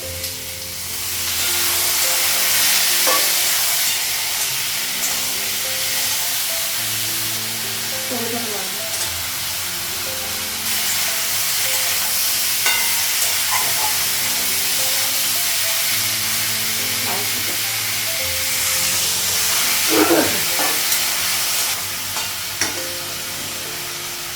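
Sliced okra frying in a pan gives a steady, even sizzle and hiss that runs the whole time, with small crackles and occasional stirring scrapes near the mic.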